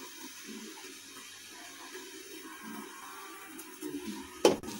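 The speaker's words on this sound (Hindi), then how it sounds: "एक बाउल ही मैं इसमें पानी डालूंगी ताकि चाशनी बनानी है मुझे।" Water is poured into a bowl to make sugar syrup for jalebi, a soft trickling splash that builds toward the end with a brief louder splash, heard close with no talking.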